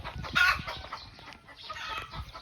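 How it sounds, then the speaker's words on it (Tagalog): Chickens cluck and a hen calls close by in a farmyard, with faint high peeping from newly hatched chicks mixed in over the short, busy stretch. "May sisiw na siya."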